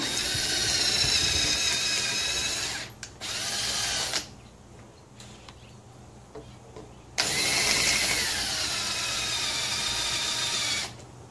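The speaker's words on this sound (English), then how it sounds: "Let me get a smaller drill." A power drill runs at a high whine close by, cuts out, spins up again in a few bursts, then runs steadily for several seconds before stopping.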